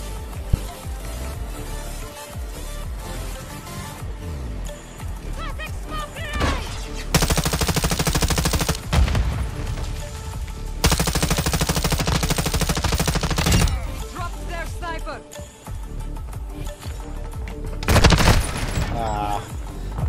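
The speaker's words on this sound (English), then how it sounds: "LMG's kind of rough" Light machine gun fire in a first-person shooter: long sustained bursts of rapid automatic gunfire with short pauses between them, loud and close, alongside other game effects and occasional background voices.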